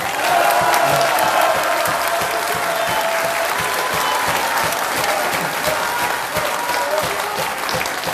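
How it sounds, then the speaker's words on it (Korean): An audience in a National Assembly conference hall applauds a named contributor, loud sustained clapping from a large crowd with a few faint cheers mixed in, holding steady throughout. "박수 한번 하시죠"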